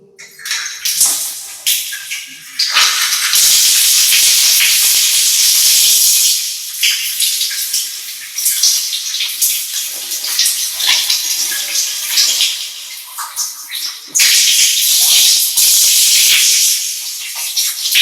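Running water for bathing pours in a steady, loud, hissing rush that lasts throughout with brief dips, and no voices can be heard over it.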